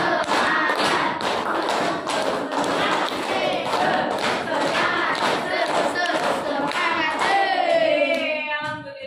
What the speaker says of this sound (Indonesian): Tepuk 2 kali semangat. Tepuk 3 kali semangat.